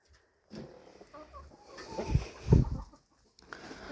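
Bantam hens on a small poultry farm cluck in a few short, close bursts, with quiet gaps between and a louder pair of calls near the middle.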